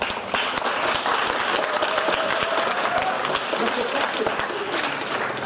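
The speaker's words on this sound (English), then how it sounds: "just a big round of applause" A school awards event audience gives a big round of applause, dense clapping and some cheering running steadily throughout while a voice talks faintly underneath.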